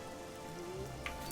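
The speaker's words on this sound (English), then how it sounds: "Well, at least it's raining." Rain falls in The Elder Scrolls IV: Oblivion, a soft, even patter of drops that stays faint and continuous with no talk over it.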